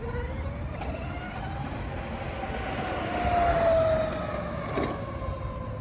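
A Harley-Davidson LiveWire electric motorcycle rides past outdoors, a rising and falling electric whine that swells around the middle of the pass over steady background noise, with no talking.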